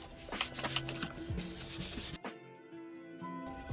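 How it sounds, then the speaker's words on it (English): Sanding clear coat off a 2012 GMC Denali headlight, close abrasive rubbing strokes in quick bursts that stop abruptly partway through, followed by quieter handling noise. "So I could start sanding this"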